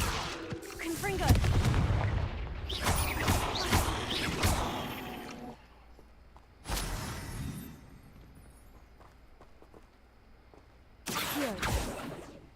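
Confringo blasting-spell explosions burst in Hogwarts Legacy, a loud cluster of crackling blasts early on, then two more sharp bursts separated by quieter stretches.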